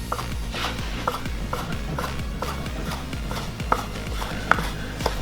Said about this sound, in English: We're gonna cut lardons. Lardons are nice little strips of bacon. You're gonna go half-inch slices all the way down.